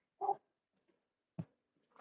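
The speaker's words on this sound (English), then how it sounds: "Yeah, he's barking at the dog." A small dog at a fenced yard gives a few short, sharp barks separated by pauses, fairly close and alone with no talking.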